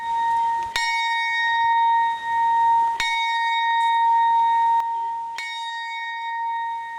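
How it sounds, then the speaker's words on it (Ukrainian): A large memorial bell tolls slowly at a remembrance ceremony in a memorial square in Ivano-Frankivsk, each loud clang ringing out into a long, sustained hum before the next strike, about four strikes in all. "У меморіальному сквері під звуки дзвонів, які символізували скорботу, вшанували полеглих героїв."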